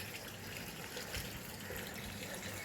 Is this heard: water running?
yes